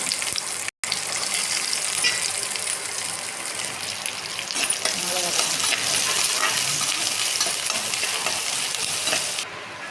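Onions with cumin and dried red chillies fry in sesame oil in a pan, a loud continuous sizzle with stirring scrapes and a sharp clink near the start.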